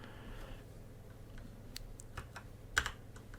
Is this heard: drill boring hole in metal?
no